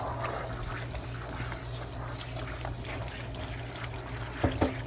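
Water running and trickling off an English Springer Spaniel in a tub as dye is rinsed from her coat, a soft steady pour and dribble with a couple of small knocks near the end, no talk.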